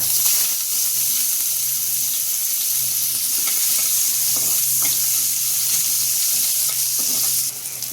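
Dried red chillies and chopped onion fry in hot oil alongside bay leaf and cardamom, giving a loud, steady sizzle broken by occasional stirring scrapes, with no one talking.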